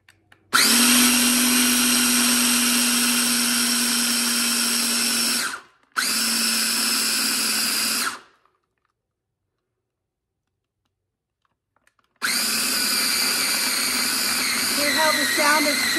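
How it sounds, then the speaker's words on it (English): A food processor mixes pie crust dough in long, loud, whirring bursts: one run of about five seconds, a shorter two-second pulse, a silent pause, then another sustained run that turns slightly lumpier as the dough forms. "this dough starts pulling away from the food processor"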